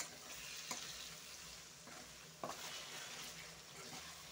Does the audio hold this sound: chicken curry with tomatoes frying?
yes